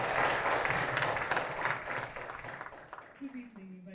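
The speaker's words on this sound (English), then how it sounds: "Give me a round of applause." An audience applauds a chief executive at an HR mentoring programme graduation ceremony, clapping strongly at first then thinning and tapering off as a voice begins to speak.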